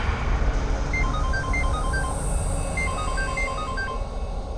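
A mobile phone rings with a repeating melodic beeping tune, heard moderately near over a steady low background rumble.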